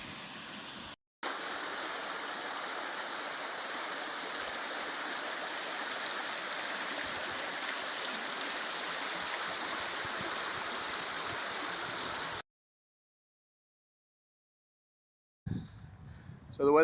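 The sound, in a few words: water running through an old mill wheel pit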